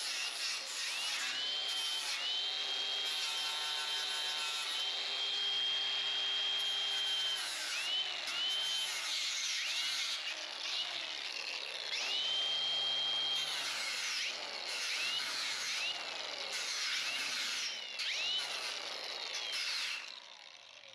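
A power tool with 80-grit sandpaper sands the metal window channel of a 1973 Plymouth Cuda in a series of whining bursts. The tool speeds up and slows down with scratchy abrasive rasping between runs, close by and fairly faint overall.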